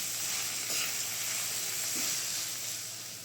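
Onions and dried red chillies fry in hot oil in a pan for a chicken dish, giving a steady, close, bright sizzle with faint bubbling crackles and no talking.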